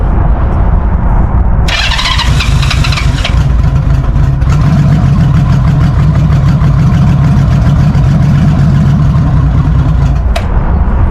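A carbureted engine running in cold weather, around 35 degrees out, with a loud steady idle rumble, a burst of throttle near the start, then continuous rough running, close and alone.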